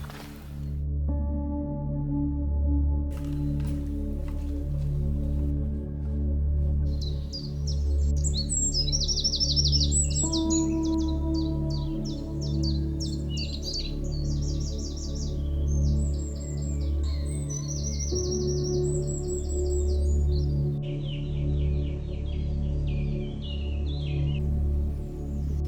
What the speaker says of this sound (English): It's just the little scufflings in the hedge and the bird song